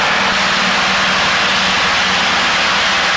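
A light airplane engine runs rough from an over-leaned mixture, a loud, continuous drone heard from inside the cabin with broadband roar and a low hum.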